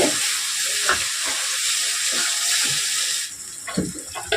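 Spice masala for a chicken curry sizzles steadily in a pan with water added, a constant frying hiss with occasional stirring scrapes and splashes, the sizzle quieting near the end.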